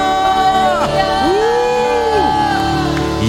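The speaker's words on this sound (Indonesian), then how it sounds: "Bisakah lebih lagi berikan tepuk tangan yang paling meriah buat Tuhan Yesus?" A church congregation at an evening prayer service cheers and whoops, with rising and falling shouted voices over a continuous crowd background.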